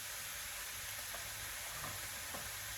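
Sausage frying in a pan gives a faint, steady high sizzle with a few soft stirring scrapes, quiet and close, no one talking.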